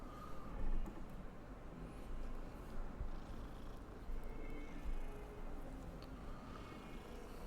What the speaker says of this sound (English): He's purring and everything.